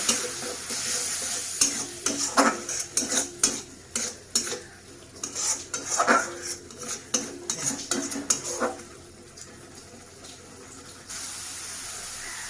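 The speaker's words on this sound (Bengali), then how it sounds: "খুব সামান্য জল দিয়ে দিলাম মশলাটা কষার জন্য।" Spice paste with a little added water being stirred and fried in a pan for a Bengali rui fish curry, with steady scraping and clinking of a spoon over a soft sizzle and no talk.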